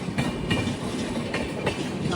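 The Kashi Tamil Sangamam Express runs along the track from Kanniyakumari toward Varanasi, its wheels knocking in a steady clickety-clack over a continuous low rumble, heard from on board.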